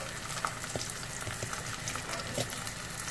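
Food sizzling in a frying pan, a faint continuous crackle with scattered small pops and spits, heard close but quiet, no talking.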